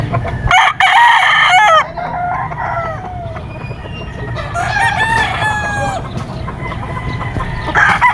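An SBR straight comb gamefowl rooster crows loudly and close, with several ragged calls and clucks, a flock of other fowl cackling nearby on a gamefarm.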